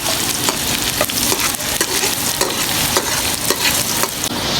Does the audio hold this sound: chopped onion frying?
yes